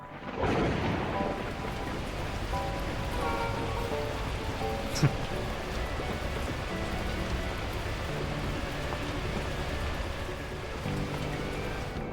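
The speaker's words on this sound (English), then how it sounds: "At that moment, the heavens opened up, unleashing torrential rain." Torrential rain pours in the video game Beacon Pines, a heavy, constant roar of water with low rumbling thunder beneath it and one sharp crack partway through, unbroken and close.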